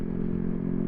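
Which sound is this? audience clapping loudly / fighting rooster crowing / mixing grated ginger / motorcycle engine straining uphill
motorcycle engine straining uphill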